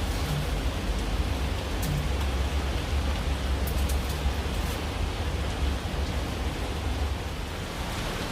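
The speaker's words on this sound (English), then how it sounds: "it has started raining" Steady rain falling outdoors, a dense continuous hiss of drops with an even loudness throughout and no voices.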